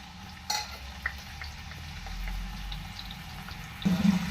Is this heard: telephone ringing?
no